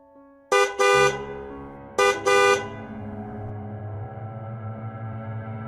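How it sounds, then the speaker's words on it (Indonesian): A car horn honks outside in two loud bursts, a short pair of toots then another pair about 1.5 seconds later, followed by a low steady vehicle rumble, used as a sound effect in a horror story. "terdengar suara klakson dari arah luar"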